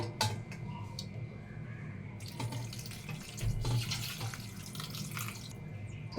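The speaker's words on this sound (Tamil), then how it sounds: "இப்போ இதில் வந்து கொஞ்சம் நார்மல் வாட்டர் ஊற்றிக்கலாம்." Plain water pours steadily over boiled Maggi noodles, a continuous splashing stream close by with no talking.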